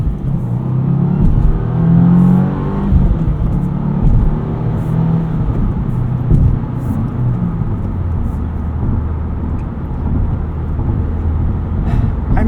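A 2024 Subaru WRX TR engine drones loudly from inside the cabin while driving, its pitch climbing and falling as the revs change, with steady road rumble underneath and no talking.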